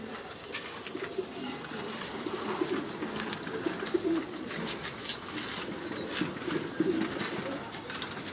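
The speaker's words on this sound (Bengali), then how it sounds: "পাগলের মতন খাবে কবুতর।" Pigeons feeding on grit give soft cooing and faint pecking and wing flutters, all low and close over a steady background hum.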